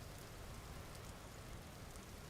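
Steady, soft rain falls in the video game Vintage Story, a constant fine patter with no breaks and no voices.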